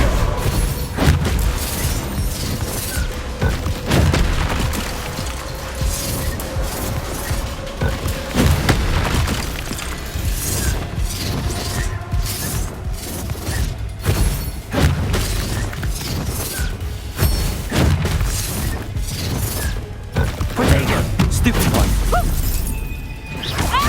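Bombarda blasting spells explode during a haunted Hogsmeade shop fight in Hogwarts Legacy on PS5: repeated loud booms and shattering crashes come through dense combat noise, with occasional voices mixed in.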